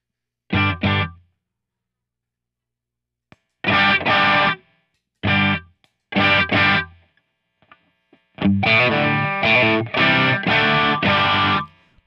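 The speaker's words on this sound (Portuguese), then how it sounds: "Agora eu vou colocar aqui um drive pra gente ver como é que eles ficam com o drive." An electric guitar with single-coil pickups plays through an overdrive on a Line 6 Helix: short distorted chord stabs separated by silence, then a longer run of loud, gritty strummed chords.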